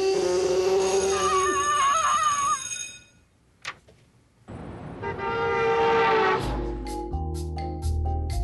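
A voice imitates a T-Rex roar in a long, harsh, wavering bellow, then gives a second growling roar after a short pause. The sound is loud and close.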